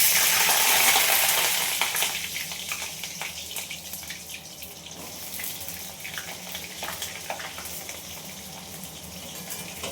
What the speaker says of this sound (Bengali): এই নাগেটসগুলো আমি ভেজে নেব।